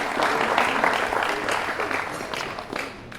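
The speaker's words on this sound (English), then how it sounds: "Yeah, you can give that a round of applause." Applause from an audience at a Polish-American community event, a steady, fairly loud crowd of clapping hands that holds for several seconds before easing slightly.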